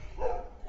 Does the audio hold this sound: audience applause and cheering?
no